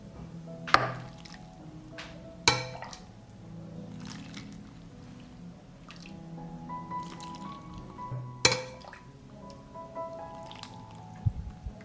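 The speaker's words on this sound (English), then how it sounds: "I pour the dressing into the jars to cover the cabbage." Hot pickling dressing is poured from a pan into jars over cabbage, giving quiet liquid splashes and scattered drips with a few sharper splats, close by and without talk.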